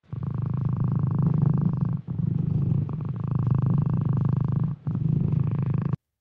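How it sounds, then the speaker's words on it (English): An AI-generated cat purrs loudly and close up, a continuous rumbling drone broken by brief pauses for breath, with no other sounds. "there's a video of a cat purring"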